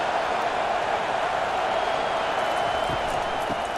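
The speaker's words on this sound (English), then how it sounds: "It is getting loud as this crowd tries to help its defense." A dense, steady roar of a large stadium crowd cheering continuously in the video game EA Sports College Football 25, loud and distant-sounding with no pauses.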